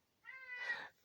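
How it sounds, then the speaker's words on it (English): A hungry house cat lets out a single drawn-out, rising meow, close and clear against a quiet room. "My cat crying,"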